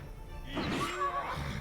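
A horse whinnies in the video game Wartales, a single rising and falling neigh with bright harmonics over a low game background hum, no talking.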